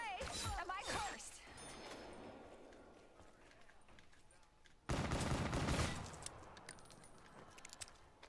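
Egg shooter weapon firing in Black Ops 3 Zombies, rapid bursts of shots at the start and again midway, loud and close, with game sounds and talk between.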